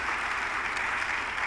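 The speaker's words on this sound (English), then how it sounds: "I would like for everyone to please give the European Union a round of applause" Crowd at a pre-departure orientation for Erasmus+ students applauds, a steady wash of clapping at moderate level with no voices over it.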